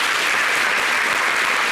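Studio audience on a Côte d'Ivoire talk show applauding a guest's introduction, a steady, dense wash of clapping that stays loud and even throughout.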